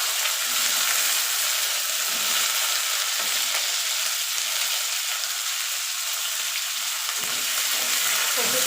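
Cut cauliflower fries in hot spice-tempered oil for a vegetable dal, a loud, continuous close-up sizzle with faint stirring scrapes.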